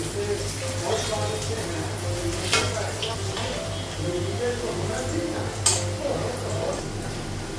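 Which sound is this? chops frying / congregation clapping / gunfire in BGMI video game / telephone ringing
chops frying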